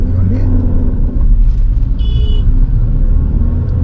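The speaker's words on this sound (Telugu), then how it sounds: "ఇక్కడ నుంచి నేను యాక్సిలరేటర్ ప్రెస్ చేస్తే ఇంజన్లో వైబ్రేషన్స్ ఉన్నాయి" A car engine rumbles loudly and close as the accelerator is pressed, a steady deep drone with slight vibration and a faint voice in the background.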